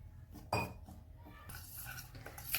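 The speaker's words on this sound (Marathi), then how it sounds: "आता याला थोडंसं पाणी टाकून याचा घोळ तयार करू" Karanji batter being mixed with water in a bowl, giving metal-on-bowl clinks and scraping stirs, with a sharp clatter early on and steady mixing noise after.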